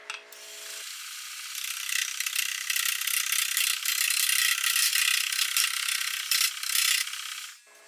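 A wood lathe turns a pot base while a tool cuts, giving a steady, close, gritty scraping rasp with a fast rattling texture that starts abruptly, runs for several seconds with small surges, and fades out at the end.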